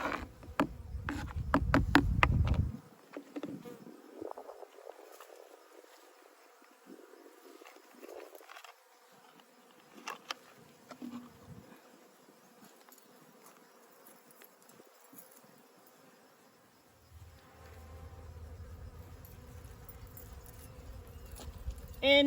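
Bees buzz around a feeder, with a few insects droning close to the mic at times, intermittent clicks and handling noises, and a soft rumbling background.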